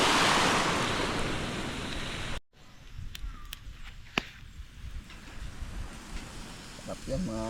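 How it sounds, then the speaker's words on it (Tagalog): Calm sea surf washes steadily with broad wind-blown noise that cuts off abruptly, then a quieter shoreline ambience with faint waves, light clicks and soft voices. "Kalmang-kalmang dagat na yun."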